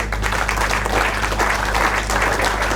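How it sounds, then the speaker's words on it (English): A crowd at an agricultural Fieldays event applauding, a dense, steady wash of clapping that stays loud throughout with no pauses. "just chuck a round of applause up for them, guys"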